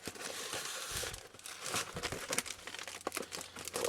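Plastic bag crinkling and rustling close up, a continuous run of crackly handling noises with no voices.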